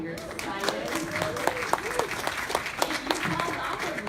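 An audience claps at the Live Well San Diego Data Summit, a scattered round of applause with distinct individual claps while a presenter speaks over it.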